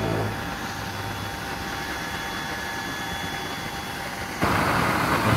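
A tiny homemade used-oil stove burner, about three inches across, gives off a steady, breathy roar nearby. It grows noticeably louder and harsher near the end as the flame is turned up fully.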